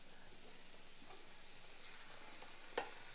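Vegan taco filling sizzles and fries in hot oil while being stirred, a faint steady crackle with one sharp scrape near the end.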